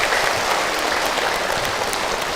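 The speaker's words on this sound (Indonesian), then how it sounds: "Tepuk tangan buat Bunda yang bertanya" An audience at an Islamic religious lecture bursts into steady applause, a dense continuous clapping from many hands, loud and unbroken throughout with no talking over it.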